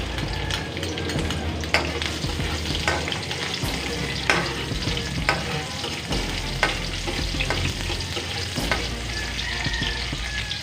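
Plenty of garlic followed by onion sautéing in a pan for a vegetables-with-pork dish, giving a steady close frying hiss with spatula scrapes and light clatter throughout and no voices.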